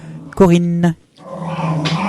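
A pet dog lets out one short, strange whining growl close by, voiced and tonal for about half a second, followed by a person speaking over a low background hum.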